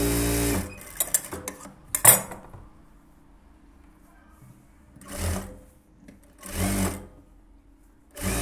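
A sewing machine stitching blouse fabric in short bursts: a clattering run at the start, then quieter pauses and several brief whirring runs, close by and fairly soft, with no speech.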